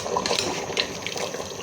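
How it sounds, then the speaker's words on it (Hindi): Water draining off cooked beef trotters for paya in a home kitchen, a steady splashing gush of liquid close by with a few brighter spatters, no talking over it. "पहले हम इसका ये सारा पानी जो है इसको ड्रेन करेंगे।"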